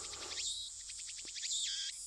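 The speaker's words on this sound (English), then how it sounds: "You hear those chirping cicadas?" Cicadas chirp in the Steins;Gate video game, repeated rhythmic shrill trills in short bursts, heard alone and fairly faint.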